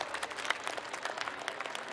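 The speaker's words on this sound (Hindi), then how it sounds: "आज जो इस परिवार में शामिल हुए हैं उनका भी तालियां बजा के एक बार अभिनंदन कीजिए।" Quiet, distant audience applause welcoming new members at a Hindi-language gathering, a soft, even patter of many hands clapping throughout.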